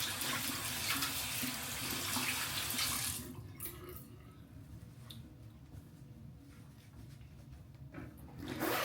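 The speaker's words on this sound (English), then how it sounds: "I would kind of wash my hands." Tap water runs loudly into a sink as hands are washed, a steady splashing stream that cuts back to quieter trickles and wet rubbing, then surges again at the end.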